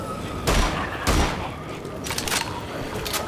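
Gunfire from an assault weapon in the shooter Wolfenstein: The Old Blood, with two loud heavy bursts early on, then lighter crackling shots further off over constant background game noise.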